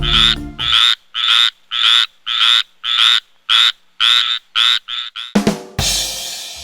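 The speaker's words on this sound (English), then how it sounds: "It's a tree frog. Tree frog. Tiny but loud." A tree frog croaks in a fast series of about a dozen loud, pulsing calls, close by, followed by a brief rustling burst and a hiss.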